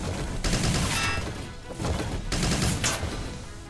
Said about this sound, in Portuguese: Vamos atirar com a metralhadora.